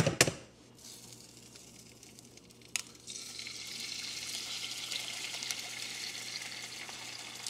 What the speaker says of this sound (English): Let's crack an egg.